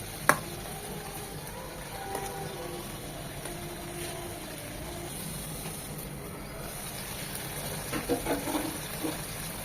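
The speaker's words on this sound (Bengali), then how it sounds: "খুব আলতোভাবে মশলার সাথে মাছগুলোকে একটু 2 মিনিট কষিয়ে নেব।" Rohu fish pieces fry gently with spices in an oiled pan, giving a low, steady sizzle that runs throughout, with a few faint utensil clinks near the start and end.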